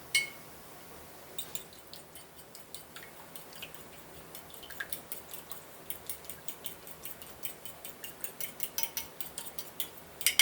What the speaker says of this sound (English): we need to scramble the eggs